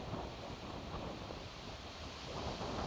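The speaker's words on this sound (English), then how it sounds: "the waves come up against this rock and make a splash" Ocean surf crashing and splashing against shoreline rocks at a holiday beach in Port Edward, heard as a dense, steady roar of breaking water with wind buffeting the microphone throughout, close and loud with no voices.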